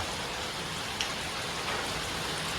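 Steady rain pours down, a dense continuous hiss of drops on surfaces with no other sounds.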